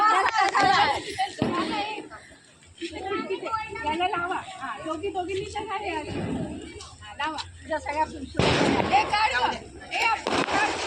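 Diwali firecrackers burst in a series of sharp, loud bangs close by, with a heavy cluster near the end, while children chatter and shout throughout.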